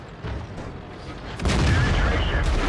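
A heavy tank cannon blast in World of Tanks, fired from an Object 430 II, booms loudly midway and rolls into a sustained rumble over engine noise, with faint talk underneath.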